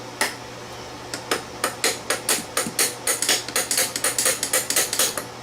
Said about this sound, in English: Every tool has a hammer side.